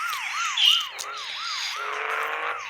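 Police car siren in the Bus Simulator Indonesia video game, a rising-and-falling wail that repeats steadily and loudly, cycling about five times, with a brief higher electronic chirp early on and no talking.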